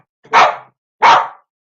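A dog barks on command, giving two loud, close single barks about three quarters of a second apart, each clear against silence, with no talk over them.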